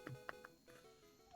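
Puppy named Penny whimpering, a few short, faint high yips and whines close by in quick succession, then quieter room sound.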